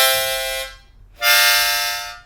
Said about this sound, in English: it means that you need to blow air into the hole that has the number 5 on top of it.